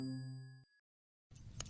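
A single bright bell ding with a clean ringing tone and a short sustained tail, fading before silence; a brief burst of broadband noise follows after the pause.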